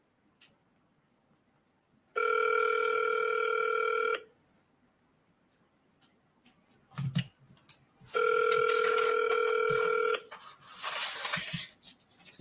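Outgoing telephone call ringing on the line: two long buzzing ring tones about two seconds each, separated by a pause, with faint handling clicks and rustle between and after, no voices.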